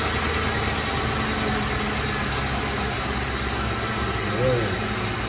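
A Ford Crown Victoria, Mercury Grand Marquis or Lincoln Town Car from 2003–2011 idles steadily nearby with a low, even hum, and a brief faint squeak near the end.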